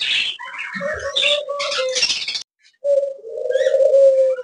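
Pet pigeons coo loudly and close by in low, drawn-out throaty calls, broken by a short pause, with brief chirps and soft rustling around them.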